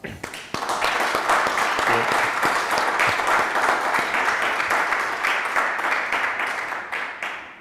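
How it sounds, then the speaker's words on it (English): A summit audience bursts into a quick round of applause, dense rapid clapping that starts abruptly, stays loud and full for several seconds, then gradually thins and fades toward the end. "Quick round of applause."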